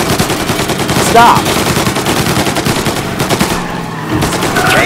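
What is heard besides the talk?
gunfire in the video game Mafia Remake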